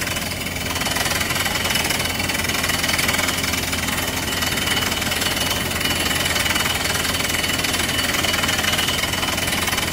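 A groundwater well-drilling rig truck's engine runs steadily and loudly up close as it bores a well, giving a continuous mechanical drone with knocking, rattling vibration throughout.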